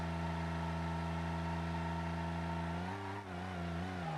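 A Wydra skid-steer ATV in the BeamNG driving game spins donuts, its mid-pitched engine holding a steady drone, then wavering and dipping near the end.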